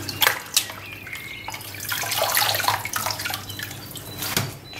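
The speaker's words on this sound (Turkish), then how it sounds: "Son bir iki defa daha yıkayalım arkadaşlar ki suyu, tuzu kalmasın." Grape leaves for stuffed sarma being rinsed in a bowl of water, with running water, splashing and dripping sounds continuing close by, alone.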